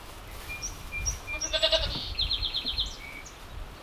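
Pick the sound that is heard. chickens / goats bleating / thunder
goats bleating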